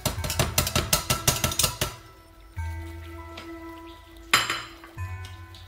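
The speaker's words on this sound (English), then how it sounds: "Once we have the rice washed, we put the rice in a pot" Washed rice going into a pot for sushi: a quick run of rapid metallic clinks and taps, then a pause and a couple of single knocks of pot and utensil, close and fairly loud, with no talk.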